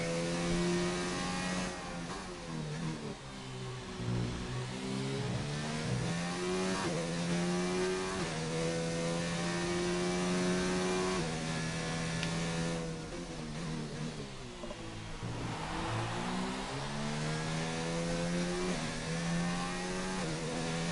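On board a race car on an outlap, the engine revs continuously and loudly, rising and falling in pitch through repeated gear changes and throttle lifts with no talking.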